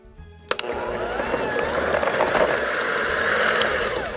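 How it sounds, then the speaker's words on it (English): Electric mixer creaming sugar and butter for a Christmas tree peek-a-boo cake: a sharp clatter as the beaters start, then a steady loud whirring drone with a faint rattle, close up, with no talking. "We're gonna cream the sugar and butter."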